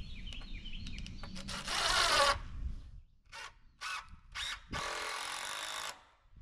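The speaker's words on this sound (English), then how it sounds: "I'm gonna go in and run a couple of screws into the post." A power drill drives a couple of screws into a post while framing the exterior end of a barndominium: short bursts of loud whirring separated by pauses, ending in a longer final run, close by.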